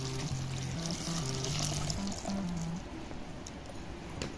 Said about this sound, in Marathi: आता ह्यामध्ये पाणी टाकायचं